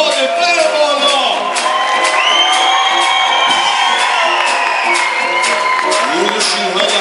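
A crowd cheers, whoops and shouts continuously and loudly at a sea lion show on Kish Island, with voices rising into shrieks and bellows in a dense, sustained roar.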